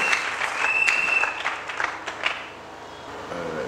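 A church congregation claps in a burst of applause, loud at first then thinning out, with scattered individual claps and a brief whistle-like tone near the start.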